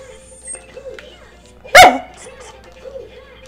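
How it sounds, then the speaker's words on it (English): A pet dog gives one sharp, loud bark close by in a home, a single short burst with faint room noise before and after. "Hey, baby, stop barking."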